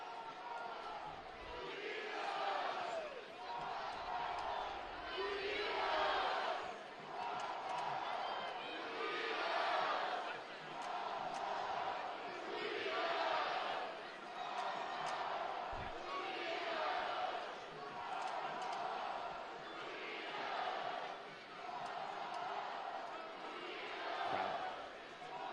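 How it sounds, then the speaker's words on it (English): A stadium crowd at a New Mexico United soccer match chants in a steady rhythmic swell, repeating about every three seconds, while a commentator talks over it. "Crowd starting to get involved here"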